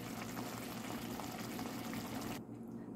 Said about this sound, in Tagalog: linagyan ko na ng tubig